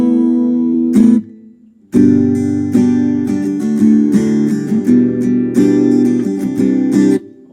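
A Chord acoustic guitar run through a Boss GT1 acoustic simulator preset, strummed chords ringing out loud and close after one opening strum and a short pause, with no talking.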